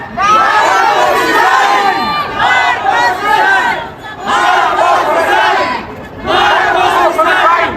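Large outdoor crowd at a rally in the Philippines shouting a chant in unison, loud and near, in three or four long waves separated by short lulls.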